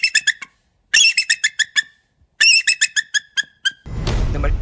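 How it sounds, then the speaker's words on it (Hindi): Eagle calling in a series of high, sharp chirping squeals, three bursts of rapid descending notes close by, followed by a brief burst of rough noise. "ईगल की एक्चुअल वॉइस कुछ इस तरह है।"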